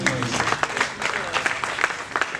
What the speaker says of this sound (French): On doit l'acclamer pour ça.